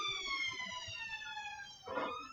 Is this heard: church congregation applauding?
no